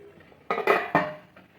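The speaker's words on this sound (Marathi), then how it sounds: "दहा मिनिटासाठी आपण याच्यावर झाकण ठेवूया." A metal lid set onto a cooking pot on a home stove, two or three quick close clanks in succession followed by a fainter final tap, with no talking.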